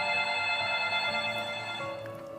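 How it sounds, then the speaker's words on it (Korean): A mobile phone rings with an incoming call, playing a bright, steady electronic ringtone melody that sounds close and alone before fading slightly at the end. "갑자기 휴대폰으로 건축사님으로부터 연락이 왔어요"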